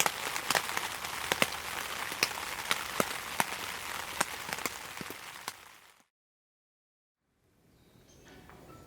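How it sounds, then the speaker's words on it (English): Raindrops patter on a tent at a motorized campsite in Forbes State Forest, Pennsylvania, a steady close hiss with sharp individual drips, then cutting to near silence and faint sound. "drifting off to sleep to the sound of the raindrops"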